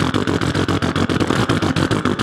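Motorcycle engine idling with a deep, steady rumble and a regular pulsing firing rhythm, close and loud, running alone for a couple of seconds.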